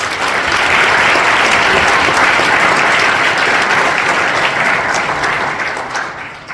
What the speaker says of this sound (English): give a big round of applause to the educators of the year from the 6 other schools